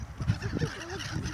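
Seagulls call in a loose flock outdoors, several wavering honking cries rising and falling over a rough low rumble, fairly close and steady throughout.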